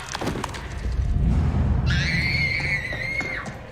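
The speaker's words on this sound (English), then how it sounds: "do you not hear that screaming?" A shrill, wavering scream from a science-fiction TV drama episode (The Expanse, season one) rises out of low rumbling background noise partway through and holds for about a second and a half before cutting off.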